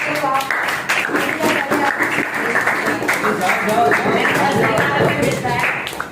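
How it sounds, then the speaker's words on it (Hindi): Audience clapping to welcome class 10 students receiving prizes at a school Independence Day celebration, loud dense applause running throughout, with voices and chatter mixed in. "आप लोग तालियों से उनका स्वागत करेंगे"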